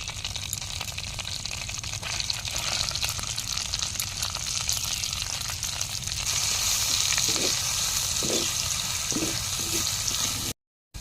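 Marinated spice paste fries in a pan of oil with cardamom, cloves and cinnamon, giving a steady loud sizzle throughout, with a few soft stirring knocks near the end before it cuts off.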